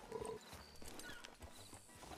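Hooves clip-clop steadily as a horse is ridden toward a farm in a Scottish-themed video game, a rhythmic patter of footfalls mixed with game ambience and music.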